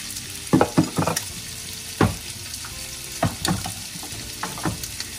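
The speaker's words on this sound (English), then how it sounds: "So I'm gonna chop this sausage up and let it cook until it's done." Chopped sausage frying in a pan for homemade pizza, a steady sizzle broken by several sharp clatters and scrapes of stirring.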